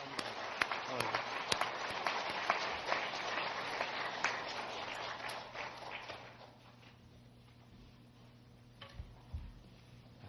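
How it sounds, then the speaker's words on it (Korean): A church congregation at a revival meeting applauds together, a dense roar of clapping that carries for several seconds before thinning out into scattered claps and low room noise. "다시 한번 하나님께 영광의 박수를 올리겠습니다"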